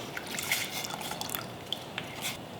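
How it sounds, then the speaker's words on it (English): A lemon squeezed by hand over a pot of water with white wine and peppercorns, for shrimp cocktail: faint, scattered drips and soft squishes, quiet and close, with no talking. "Now I'm gonna squeeze a lemon."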